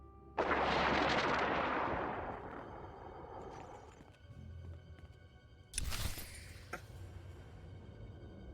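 A loud explosion erupts in the Star Wars: The Old Republic video game, a roaring blast that decays over a few seconds, followed by a second sharper crashing burst and debris.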